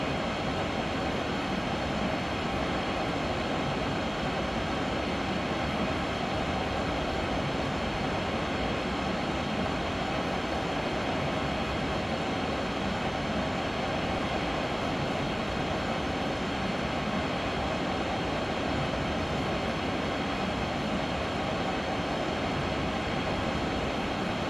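An ICE 3 high-speed train in Train Simulator 2016 on the Mannheim to Karlsruhe line runs along with a constant, dense roar of wheels and motors, steady and loud with no pauses.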